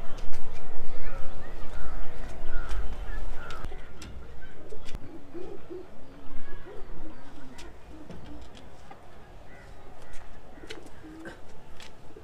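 Pigeons kept in a loft coop, including Madras flying birds, coo softly and repeatedly beneath steady background noise, with a voice speaking over them.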